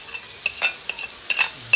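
Chunky pieces sizzle in curry in a pot over an open fire, giving a quiet, steady crackle with short bursts of spitting and popping at irregular intervals and no voices.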